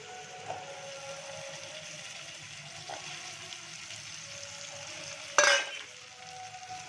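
Potatoes and browned onion frying in a pan give a steady, moderate sizzle with a few faint stirring knocks and one sharp louder clatter near the end, close by with no talking.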